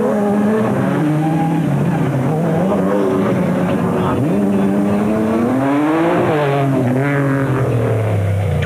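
Race cars and rally trucks, including a Nissan hardbody, roar along at the Caledon 400 race. Loud engines rev and shift pitch continuously as vehicles pass close by.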